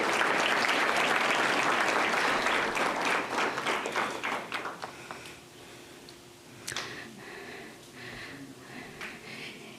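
An audience at a school district board meeting applauds fifth grader Royce for his track and field placings. Loud, dense clapping fades after a few seconds into scattered individual claps over a quiet room.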